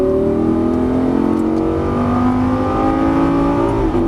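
A Lamborghini Gallardo pulls hard on a race track, its engine note climbing steadily in a loud, continuous rising whine with a brief shift near the end.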